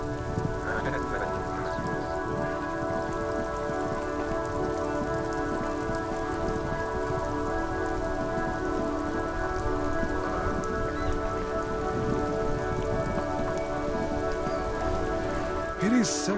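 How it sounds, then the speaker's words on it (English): Steady rain falls in the video game Disco Elysium, an even, continuous hiss of drops on surfaces, joined by layered sustained musical tones and a faint brief rise at the very end. "Stuck in the rain in a traffic jam."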